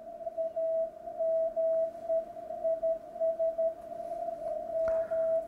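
An ICOM IC-7760 transceiver receives a steady narrow beeping tone through its audio peak filter, the faint on-off keyed signal pulsing irregularly over a low hiss.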